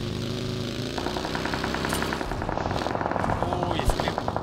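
Bursts of rapid gunfire from the video game PUBG on the Erangel map crackle over an engine drone, with players talking intermittently throughout.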